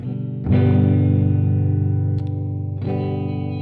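Electric guitar slightly out of tune, played through distortion and chorus effects, with sustained loud chords ringing close, restruck twice with a wavering, detuned shimmer.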